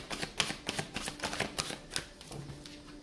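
Tarot cards being shuffled by hand, a close, fairly quiet series of quick riffling snaps and papery flutters in an uneven rhythm, heard alone.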